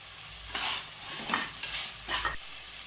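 Potatoes sautéing in a pan with ginger-garlic paste for a spicy chickpea and potato gravy, a soft steady sizzle broken by three bursts of stirring scrapes, close and moderately loud, with no talk.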